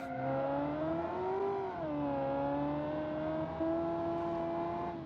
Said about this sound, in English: A plus-sized European sports engine, because it does sound like a flat plane.